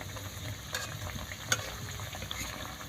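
Semolina biscuits frying in a pan over low heat give a soft, steady sizzle with a few small clicks and taps, quiet and close, with no one talking.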